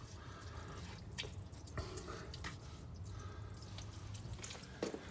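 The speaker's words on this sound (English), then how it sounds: "We're gonna open the drain on the freshwater tank and drain all the water out of it." Water drains from an RV freshwater tank, dripping and trickling steadily, with irregular splashing drops over a low continuous flow, fairly close.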